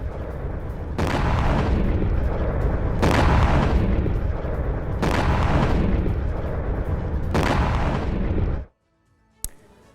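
Explosions from a Russian strike on a Ukrainian artillery post: four heavy booms roughly two seconds apart, each rumbling into the next, then an abrupt cut to near silence and one short sharp pop.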